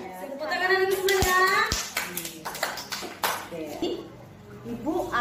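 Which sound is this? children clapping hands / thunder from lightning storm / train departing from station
children clapping hands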